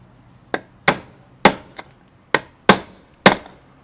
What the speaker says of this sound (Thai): ค้อนครับค้อน อย่าผิดประเภทครับค้อน